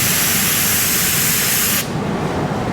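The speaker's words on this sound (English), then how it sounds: "When you close it, you get a spray out that look like this." A Porphis PRD 717 spray gun spraying with its fan pattern narrowed, giving a loud, steady hiss of air and paint that cuts off abruptly near the end, leaving a quieter background hiss.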